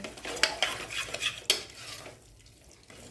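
Sev usal stirred in a pan with a metal spoon, several quick scraping and clinking strokes against the pan over faint sizzling, followed by a quieter stretch.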